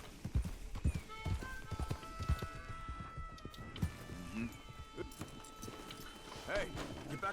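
Rhythmic clip-clop of horse hooves at a walking pace in Red Dead Redemption 2, close and steady, with occasional voices and game sounds over it.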